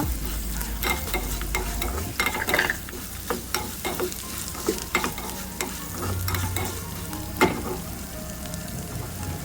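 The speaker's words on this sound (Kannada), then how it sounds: "ಕರಿಮೆಣಸು ಒಂದು ಟೇಬಲ್ ಸ್ಪೂನಷ್ಟು ಕಪ್ಪು ಎಳ್ಳು ಕರಿಬೇವು ಸಣ್ಣ ಉರಿಯಲ್ಲಿ ಮಸಾಲೆಯನ್ನು ಚೆನ್ನಾಗಿ ಫ್ರೈ ಮಾಡುವ" Black pepper, black sesame seeds and curry leaves frying in a pan over a low flame, with a soft continuous sizzle and repeated sharp scrapes and taps of a stirring spoon.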